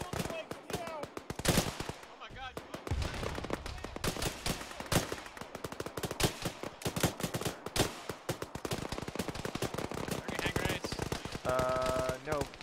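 Dense automatic rifle fire in a tactical military shooter, rapid bursts and overlapping shots filling the whole stretch, loud and near, with voices talking over the gunfire.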